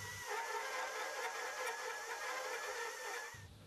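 Motor of a Kent Precision window cutter drives forward to make a circumferential cut in a pipe, a steady mid-pitched whirring hum that starts and stops abruptly over a few seconds.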